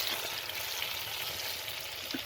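Green beans (sheem) fry in hot oil in a pan, a steady close sizzle with faint crackles and an occasional stirring clatter, no voices.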